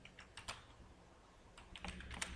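Quiet keystrokes on a computer keyboard while someone types out Python code, arriving in loose bursts with a short pause in the middle, close by and with nobody talking.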